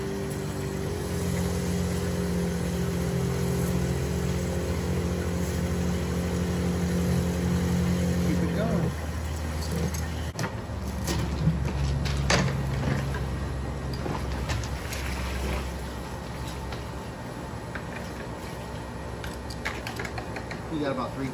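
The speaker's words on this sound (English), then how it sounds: "get the pump running." Small motor-driven pump on a sprayer rig for Dominion 2L and BifenClip termiticide application, droning steadily and loudly through the clip with a hum that shifts partway through, mixed with clatter and a voice in the background.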